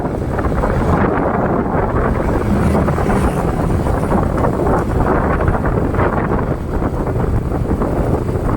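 Strong wind buffets the microphone in a loud, constant low roar, gusting slightly but never letting up, with no voices.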